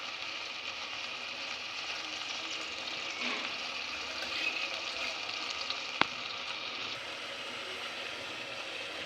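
A ground spice paste of ginger, garlic, cumin, onion and dried chili fries in a pot for Bengali mezbani beef curry, giving a steady, even hiss and sizzle with one sharp click partway through and no talking.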